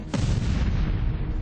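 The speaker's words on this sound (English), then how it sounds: "An explosion rips the crowd apart." A loud, sustained explosive blast that rips through a crowd at a political rally, a deep rumbling roar filling the whole clip without a break.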